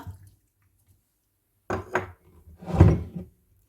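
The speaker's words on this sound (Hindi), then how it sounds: "थोड़ा सा पानी डालेंगे।" A little water poured into freshly ground tamarind chutney in a home kitchen, heard as a short splashy pour after a brief clatter, close and fairly loud with no talking.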